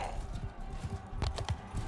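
Horse hooves clip-clopping in Mount & Blade 2: Bannerlord, a brief run of soft, quick hoofbeats with a few sharper strikes, close by over faint background noise.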